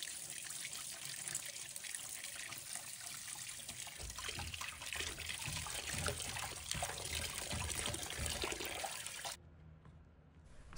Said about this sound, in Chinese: 把白萝卜清洗掉表面的泥土和杂质